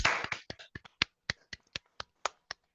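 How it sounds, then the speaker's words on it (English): A handful of people clap, likely over unmuted microphones during an online Toastmasters club meeting, giving sparse, distinct claps in an uneven rhythm, close and fairly faint, after a brief initial flurry. "give the TMOD an actual resounding round of applause"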